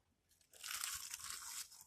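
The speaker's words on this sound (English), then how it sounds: "No, you hear the crunch." One close, crisp crunch from biting into a seaweed snack, a dry crackling burst lasting about a second before fading.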